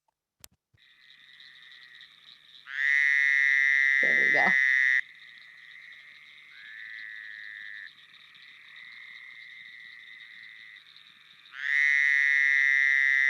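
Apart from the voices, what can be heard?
frog call, sounds like a sheep caught in a trap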